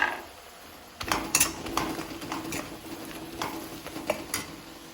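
Spoon stirring ground pepper and turmeric into egg 65 masala in a hot pan, a steady scraping and sizzling that starts after a quiet first second and continues close up with soft clinks.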